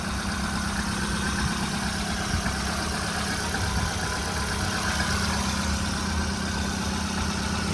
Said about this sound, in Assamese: ষ্টাৰ্ট হৈ আছে গাড়ী